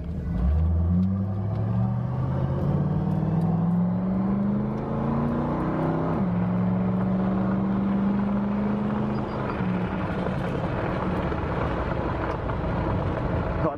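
A 1932 Ford 5-window coupe hot rod drives along, its engine rising in pitch as it accelerates and shifts, with steady wind noise from a loose windshield gasket roaring throughout.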